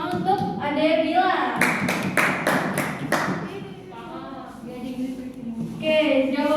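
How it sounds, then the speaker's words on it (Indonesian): A small group claps briefly in a quick run of hand claps during a community health talk on dengue fever, with people talking before and after. "tepuk tangan untuk Ade Bila."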